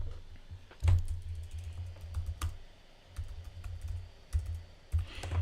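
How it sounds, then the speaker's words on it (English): Computer keyboard typing in a quiet room, with irregular bursts of clicks and keystrokes separated by short pauses, close and moderately loud, no speech. "let me type it out."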